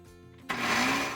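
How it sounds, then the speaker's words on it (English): A blender kicks on abruptly and runs steadily, loud and close, whirring through a batch of gluten-free, yeast-free bread dough after a brief quiet moment. "we'll put this back on the blender base and mix this up a tad"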